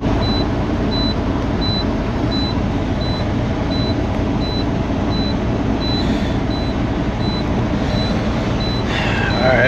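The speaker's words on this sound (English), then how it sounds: "As I sit here and wait for my air to fill back up" A parked truck idles with its engine running while the air brake system refills, a steady loud rumble with a faint repeating high beep in the background and a brief hiss near the end.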